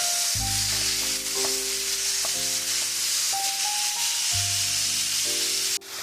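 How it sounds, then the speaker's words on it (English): Ground beef with vegetables browning in a pan for a sloppy joe pasta casserole, giving a loud, steady sizzle. The sizzle runs continuously, with a few tonal sounds layered above it. "You want to let it continue to cook until all the meat is brown"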